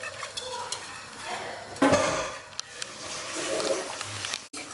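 Kadhi being stirred in a cooking pot, with a spoon scraping and clinking against the pot in an irregular rhythm, close and fairly loud, and a sharper clatter partway through; no one speaks.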